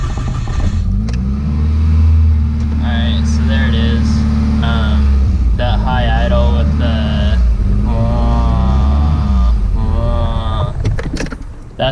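A Nissan 240SX engine runs at a steady high idle with its MAF sensor unplugged and a large air leak, giving a close, continuous droning hum with a muffled voice intermittently over it.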